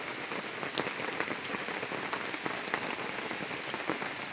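Rain falls in a forest, a close and continuous patter of drops on leaves and surfaces, with a few sharper individual hits and no talking.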